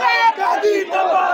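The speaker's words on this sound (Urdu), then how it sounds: "گو قاضی گو کے نعرے لگائے جا رہے ہیں" Protesting lawyers outside a supreme court chant a slogan in unison, a loud, close crowd of voices shouting rhythmic repeated phrases over about a second and a half.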